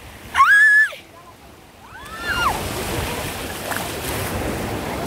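Large sea waves wash onto a beach, a broad hissing surf rising after a brief high squeal of voices and whistle-like calls, then a steady rush of water continuing to the end.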